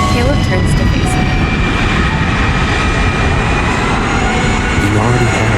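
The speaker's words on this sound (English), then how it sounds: "The ground trembles as a plane roars overhead. It's preparing to land." A plane roars low overhead while coming in to land, a loud, continuous rumbling engine drone that stays steady throughout, with faint talk audible beneath it.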